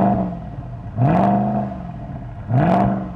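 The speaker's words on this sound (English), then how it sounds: "Oh, give it some revs." A deep Mercedes Black Series V8 engine revs in sharp bursts, roaring up and then settling back to idle several times, loud and close.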